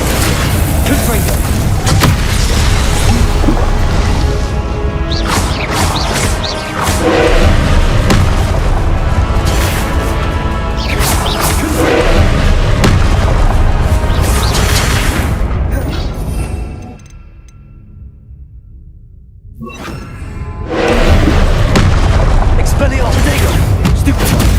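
Repeated Confringo fire-spell explosions from the game Hogwarts Legacy, a dense run of loud booming blasts and bursts that drops away briefly to near silence, then resumes, with a voice calling out spell names over the action.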